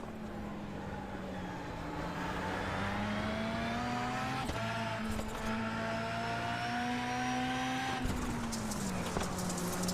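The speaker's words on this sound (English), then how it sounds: "The sights and sounds of Rallycross through the first couple of corners here at Charlotte." Rallycross race cars corner at Charlotte in the iRacing video game: a steady, loud engine drone with rising and falling pitch as drivers shift and brake, several cars layered together throughout, no voices.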